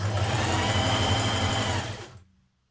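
A sewing machine stitches around coat overlays at a steady buzzing pace, loud and close, then slows and stops near the end.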